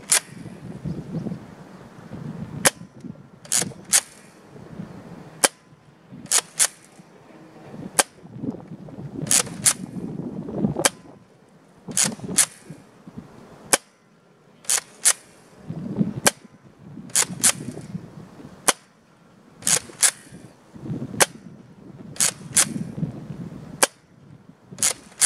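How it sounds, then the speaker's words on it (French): A Nerf Rival Star Wars Stormtrooper blaster firing a twelve-round magazine of foam balls, heard as sharp, loud pops spread across the clip, some in quick pairs, with rustling and wind-like handling noise between shots and no speech. "J'ai mis un chargeur de 12, donc je vais tirer 12 billes."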